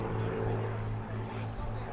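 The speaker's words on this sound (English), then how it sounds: "Blenheim itself, initially conceived as a civil airline, was in response to a challenge from Lord Rolls-Royce to produce the fastest commercial aircraft in Europe." The droning propellers of a Bristol Blenheim bomber fly past at the Eastbourne International Airshow, a steady low pulsing hum from the twin engines heard at a distance.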